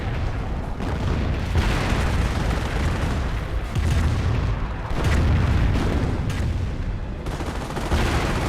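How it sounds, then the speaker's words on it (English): Calliope rocket barrage in Company of Heroes, a rapid volley of heavy booming explosions and crackling blasts rolling on in repeated waves, loud and dense across the whole stretch with no talk over it. "Calliope rocket barrage"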